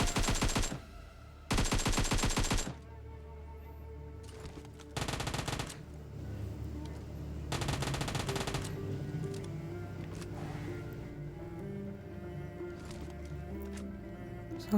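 Gunfire in the mobile shooter PUBG Mobile: several loud rapid automatic bursts over the first nine seconds, with game background sound continuing between and after them.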